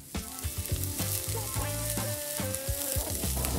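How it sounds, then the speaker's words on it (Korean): Beef ribs, a Korean-style marinated galbi, sizzle and crackle loudly over a charcoal grill, with steady spitting and popping close up and occasional sharper clicks. "색이 어느 정도 나오면 바로 숯불에 올려서 2차 그릴링을 해줍니다"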